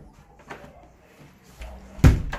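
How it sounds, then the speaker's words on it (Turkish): A few knocks on a door, spaced apart and fairly quiet at first, then a sharper, louder knock toward the end. "Vur kapıya. Bir daha vur."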